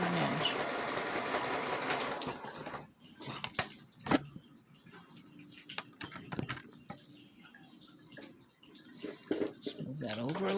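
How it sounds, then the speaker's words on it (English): A sewing machine stitches a quarter-inch seam with the presser foot and needle lowered, running in short bursts of whirring between pauses, with a voice speaking over parts of it. "Lower my presser foot down, lower my needle, and I'm going to sew that 1/4 of an inch."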